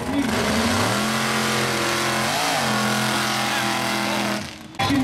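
The small-block engine of a racing mud truck revs hard, loud and close, its pitch climbing, dipping and climbing again before it cuts off abruptly near the end, with a rough burst after.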